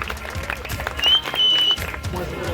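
Brief applause from an audience at a village dance competition and anniversary festival in Addur, Guhagar follows a prize announcement, a short burst of claps mixed with a faint tonal whistle or feedback and background noise.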